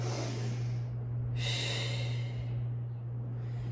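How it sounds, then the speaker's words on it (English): A deep breath taken in child's pose during a Pilates class, one soft, airy close inhale and exhale over a steady low hum. "Take a deep breath here."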